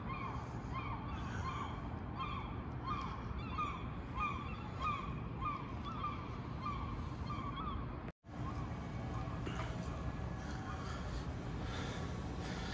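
Repeated seagull calls ring out over steady wind and ambient noise in downtown Seattle, continuing throughout with a brief dropout midway.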